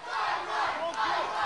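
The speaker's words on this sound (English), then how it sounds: "And listen to this crowd." Wrestling crowd at an Irish Whip Wrestling six-man tag team match roaring and cheering loudly and steadily, a dense wall of voices with no individual speech.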